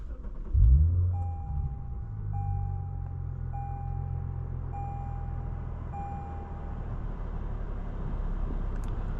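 A 2017 Lexus RC350 F Sport with a 3.5-liter V6 and 8-speed automatic hums steadily from inside the cabin, a low engine rumble that swells briefly near the start, while a soft electronic chime repeats at regular intervals.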